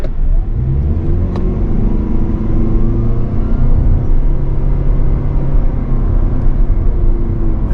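A 2024 Toyota Prius Prime SE plug-in hybrid pulls away from a stop with a low, steady engine rumble and a faint electric whir, heard from inside the vehicle, with no one talking.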